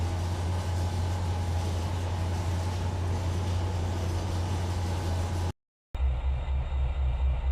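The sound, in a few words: train running in video game Trainz 2022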